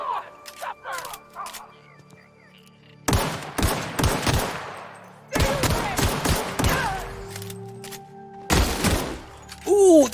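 Bursts of gunfire in the game The Outer Worlds: a few quick shots, then three loud rapid volleys separated by pauses, with impact clatter and ringing tails.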